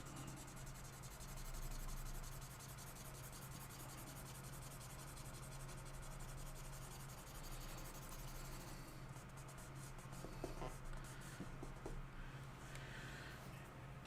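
A pencil sketches a hound dog on paper in a quiet, continuous scratching and rubbing of graphite, faint and steady with small strokes near the end.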